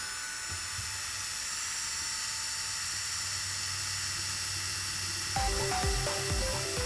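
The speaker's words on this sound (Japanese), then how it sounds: "そして台をドリルで回転させます。" A drill spins a rotating platform with a steady high whine and hiss, then near the end the pitch shifts and low rumbling bumps join as the load changes, loud and close with no talk.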